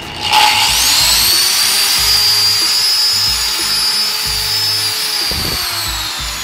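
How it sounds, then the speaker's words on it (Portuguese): A large, powerful Einhell angle grinder whines loudly and steadily close by, its high motor tone sustained throughout. "Essa esmerilhadeira é uma esmerilhadeira grande, uma esmerilhadeira potente"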